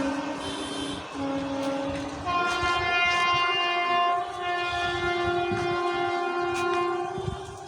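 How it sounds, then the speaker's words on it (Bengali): A loud, sustained horn from a Howrah–Rampurhat Express hauled by WAP-4 and WAP-7 electric locomotives blares in layered harmonic tones, starting with shorter blasts and swelling into a long continuous blare over rumbling rail noise. "ওই হর্ন মারছে না অন্য কেউ আসছে?"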